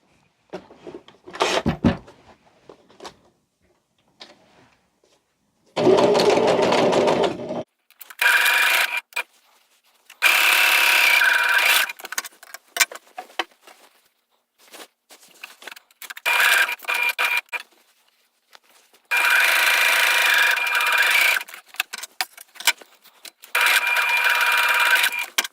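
Sewing machine stitching the edge of a fabric basket liner, running in loud close bursts of rapid mechanical whirring separated by quiet pauses and small handling clicks, with no talk.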